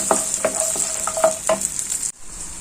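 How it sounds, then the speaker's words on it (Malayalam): Raisins fry and puff up in a pan for wheat payasam, giving a close, continuous bright sizzle broken by several quick stirring scrapes, then cutting off abruptly. "ഈ റേസിൽസ് ഇങ്ങനെ വീർത്ത് വരുന്ന"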